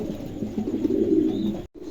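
A pair of silver pigeons coos softly and continuously up close, low, rounded, burbling calls with no talk.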